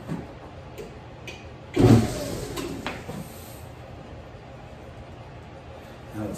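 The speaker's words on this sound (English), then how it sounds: "Ooh, I heard motor." An old South Bend lathe's electric motor kicks on with a sudden loud whir that settles into a steady lower hum, with a person talking briefly alongside.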